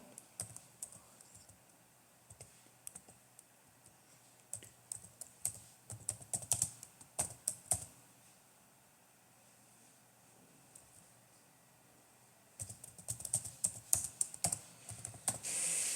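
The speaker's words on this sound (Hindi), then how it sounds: "यहां पे मैं टाइप कर देता हूं।" A computer keyboard clatters in quick bursts of typing, close and fairly soft, pausing for several seconds midway before a denser run of keystrokes resumes; no voices.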